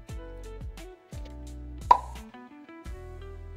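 A small splash of kewra water plops once into a biryani pot, a single brief drop sound near the middle, over steady background music.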